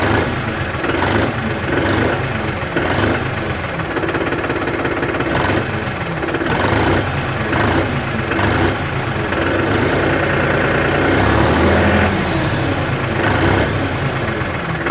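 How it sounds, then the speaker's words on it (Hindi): New Holland 5510 Excel 4WD tractor with a turbocharged engine and pipe-type silencer running steadily nearby, a loud continuous rumble with rhythmic knocking pulses and no talk. "स्टार्टिंग काफ़ी ज़्यादा स्मूथ है ट्रैक्टर की, आवाज़ चेक कर लो, टर्बो चार्ज इंजन है इसके अंदर।"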